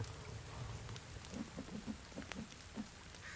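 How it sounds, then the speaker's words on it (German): Rain in the survival video game The Forest falls as a faint, steady patter, and a few soft low thuds sound nearby. "Das regnet jetzt ein bisschen"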